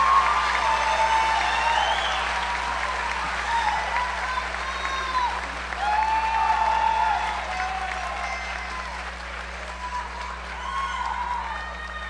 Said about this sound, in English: Would you please give a round of applause to the Industrial Tech class of 2018?